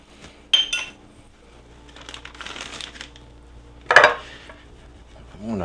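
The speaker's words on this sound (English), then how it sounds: "I'm going to cover my pan and shake this out in the sink." Covered metal cake pan with butter and flour shaken over a kitchen sink: a few sharp metallic rattles and clanks separated by softer shuffling, with a loud clatter near the end.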